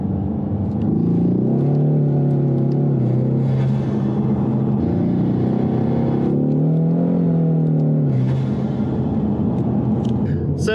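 A car's engine, fitted with NGK ruthenium spark plugs, revs hard under acceleration in a few rising and falling pulls, loud and close, with someone talking over the rumble.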